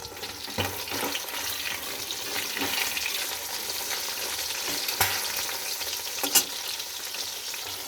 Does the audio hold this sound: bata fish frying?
yes